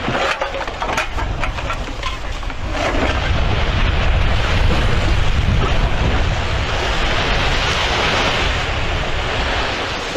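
Lake Winnipeg waves wash steadily against the shoreline, a continuous broadband roar blended with gusty wind buffeting the microphone; no one talks.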